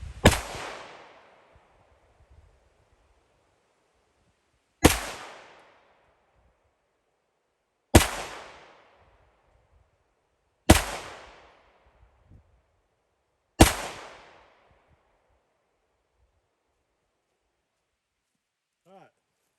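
CZ Shadow 2 pistol firing five sharp, loud shots spaced about three seconds apart during an accuracy test at 7 yards, each crack followed by a brief decaying echo, with faint handling noise between shots.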